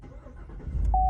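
A Cadillac Escalade engine turns over and catches, a low rumble rising out of a quiet cabin near the end, joined by a sharp steady dashboard chime.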